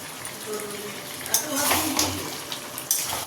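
Potatoes dropped into a pot of chicken curry that has already been fried down, giving clattering pot-and-utensil knocks and sizzling over a steady kitchen background, with voices talking throughout.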